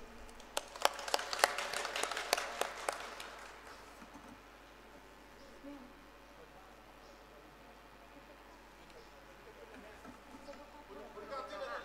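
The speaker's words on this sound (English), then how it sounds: "So please give a big round of applause." Applause at a nursing lamp-lighting and oath-taking ceremony, a short burst of scattered, fairly distant hand claps in the opening seconds that fades into a quiet hall with faint murmuring and background noise.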